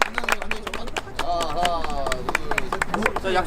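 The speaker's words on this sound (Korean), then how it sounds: "박수, 박수. 박수." Lively clapping from a foot volleyball club gathering, sharp claps scattered and then building into steady applause, close by, with people talking and calling out over it.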